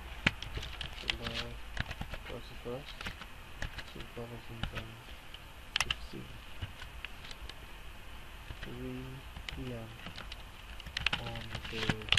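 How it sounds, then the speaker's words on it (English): Typing on a computer keyboard in bursts of quick, close key clicks separated by short pauses, quiet overall, with someone talking softly between the bursts. "in this box I'm going to type"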